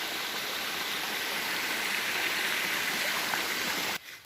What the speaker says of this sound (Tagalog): Ito yung sapa na pinistuhan ko kanina doon sa taas.